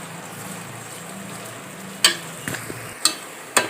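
Onion frying in oil in a pressure cooker gives a steady low sizzle, with several sharp clanks and scrapes of stirring in the second half.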